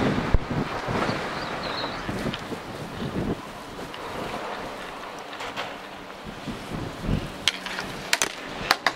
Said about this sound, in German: Guck mal, was der Wind da für eine Kraft hat.